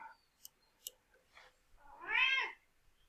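A cat gives one clear, drawn-out meow near the end, preceded by a few soft clicks and small sounds in an otherwise quiet room.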